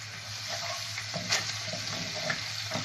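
Minced onion frying in hot oil in a pot for koshari, a steady close sizzle with crackling bursts, no talking.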